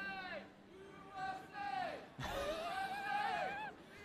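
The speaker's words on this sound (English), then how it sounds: "We've got some USA crowd chanting." A crowd chanting "USA" during a live-streamed rubber match, heard as a few loud, drawn-out shouted chants rising in pitch, the second chant fuller and longer than the first.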